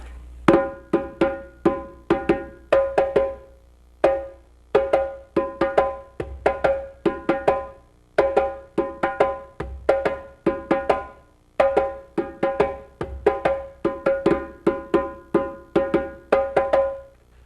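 Hand drums play the second part of the Kassa rhythm, a steady repeating pattern of sharp slaps and tones grouped in quick phrases with brief pauses between them, clear and close with no voices.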